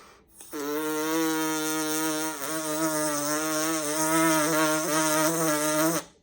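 A steady brass embouchure buzz made through an aperture setter, a loud, sustained reedy drone that holds for several seconds with two brief dips before stopping cleanly.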